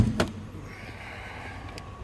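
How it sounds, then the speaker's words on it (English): Hood of a 1999 Cadillac DeVille D'Elegance popped open: one sharp, close latch clunk right at the start, then a quiet, steady background. "I'll pop that hood and check out underneath the hood, check out the engine bay"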